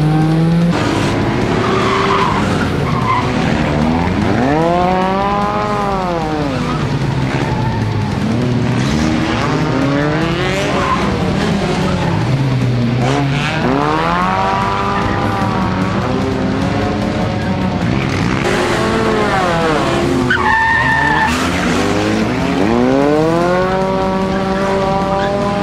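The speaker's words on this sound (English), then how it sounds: "got one car spinning out." Race cars in a night enduro destruction event in a video game, tires skidding and squealing with engines roaring loudly and continuously, sliding whines rising and falling throughout as cars spin out.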